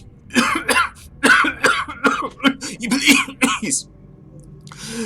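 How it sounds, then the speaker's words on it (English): A person coughs hard in a rapid series of harsh bursts over about four seconds, then a quiet pause with faint hiss. "He's sort of racked by this severe cough."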